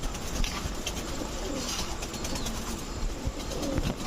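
Pigeons of fancy breeds such as Indian Lotan, Owl and Bombay coo softly among a noisy crowd of birds, an even, busy background of calls.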